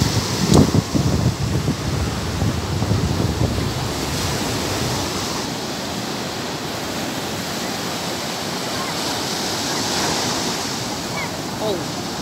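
Ocean surf rolling in at a surfing beach in Zambales, a steady, loud wash of breaking waves with wind buffeting the microphone, a few brief sharper knocks early on, and no talk.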